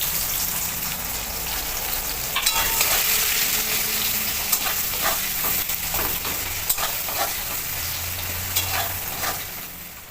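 Onions and a bay leaf fry in a pan for a chicken biryani, giving a steady close sizzle with a few sharp spatula clicks and scrapes over it.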